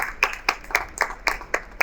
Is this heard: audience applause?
yes